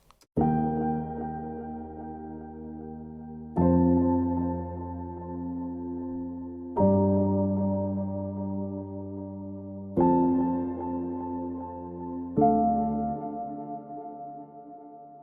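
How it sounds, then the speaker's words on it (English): Five mellow chords from a software Soft Piano preset played slowly, each struck softly and left to ring and decay before the next one arrives. "they've got this really cool preset in there called Soft Piano"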